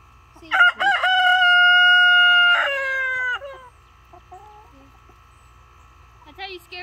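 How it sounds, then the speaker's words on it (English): A full-grown Barred Rock rooster crows loudly and close by in one long sustained call, followed by quieter clucks and a brief call near the end. "Mr. Giant Rooster."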